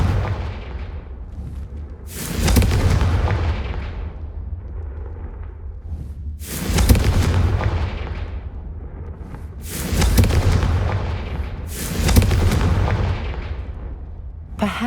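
Repeated fire-spell blasts in the video game Hogwarts Legacy: four loud booming explosions spaced a few seconds apart, each decaying into a rumbling tail.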